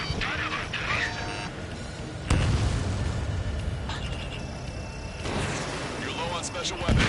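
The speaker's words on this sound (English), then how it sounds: "Missile." Missiles launch and explode during an Ace Combat 7 dogfight, with a sudden booming hit partway through and continuous engine roar and combat noise underneath, while voices talk over the action.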